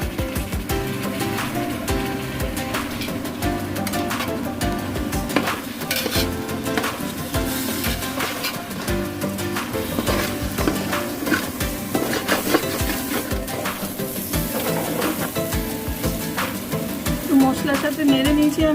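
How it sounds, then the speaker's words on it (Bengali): A utensil scrapes and clinks steadily against a pot while khichuri is stirred with spices, making a busy, continuous metallic clatter with faint sizzling throughout. "মশলার সাথে নেড়ে নিয়েছি আমি এটা।"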